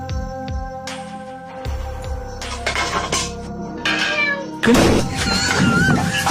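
Person imitating a cat, producing several meow-like cries at close range, with a few clinks and some rustling in the background.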